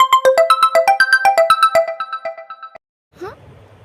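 A phone ringtone plays for an incoming call, a bright repeating melodic pattern of quick chiming notes lasting under three seconds, clear and close, then cutting off before a brief voice.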